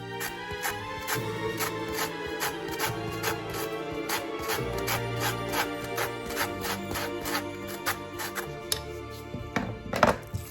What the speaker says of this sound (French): À la toute fin, je râpe un petit peu de zeste de citron.